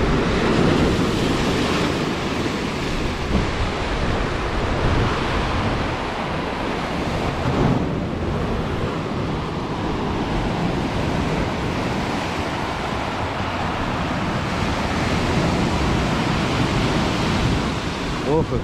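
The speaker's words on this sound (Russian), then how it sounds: "Красивая волна." Sea waves roll and break steadily along the Yalta embankment in the evening, a loud continuous wash of surf with some wind noise over it.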